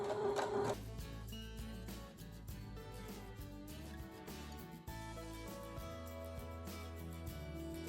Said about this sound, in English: I'm going to start sewing on the left side of the beard and go around so that my blanket stitch is right against the edge